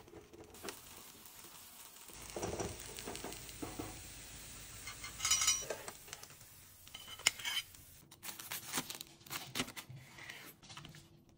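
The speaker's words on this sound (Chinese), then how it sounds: "在帕尼尼机压两分钟。" Steak, caramelised onion, cheese and sautéed mushroom panini pressing in a panini machine, with a soft steady sizzle and scattered clatter of utensils and pans throughout, no talking.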